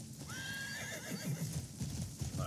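A horse whinnies loudly in a video game, its rising and falling neigh running over a background of clip-clopping hooves and other game ambience.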